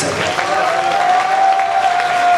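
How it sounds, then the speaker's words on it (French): Audience applause at a bodybuilding competition in Lyon, a dense steady wash of clapping with a sustained tone running through it, loud and continuous throughout. "Vos applaudissements, s'il vous plaît, pour Maxime Yafrat."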